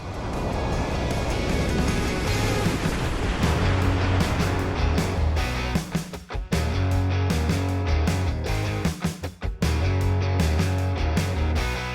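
The engine of a new 27-foot Limitless motorboat drones steadily and loudly, with water rushing and slapping against the hull throughout and occasional bumps as it runs.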